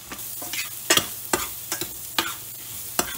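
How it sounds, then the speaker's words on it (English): Chopped onion with coriander and cumin powder being stirred and sautéed in a pan, with soft spoon scrapes and stirring strokes recurring every half second or so over a low background sizzle, close and fairly quiet. "Saute this for about 3 minutes."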